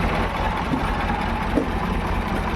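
A tractor pulling a loaded trolley slowly during groundnut harvesting runs steadily, a continuous low, rumbling drone that stays close and even throughout.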